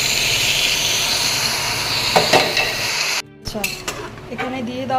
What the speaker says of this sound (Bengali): ম্যারিনেট করে রাখা মাটন দেওয়ার পর একটু নেড়ে চেড়ে নিয়ে এবার এভাবেই আমি কিছুক্ষণ কুক করে নেব